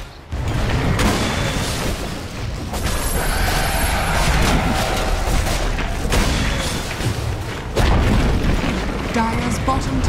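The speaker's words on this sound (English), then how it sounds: "Dire's bottom tower is under attack." Dota 2 bottom tower of the Dire taking hits and collapsing in a busy fight, with loud continuous booming impacts and clashing effects throughout, a fresh heavy burst near the end, and a game announcer voice speaking over it.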